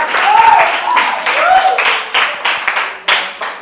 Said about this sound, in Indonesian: Tepuk tangan untuk Mas Fakih.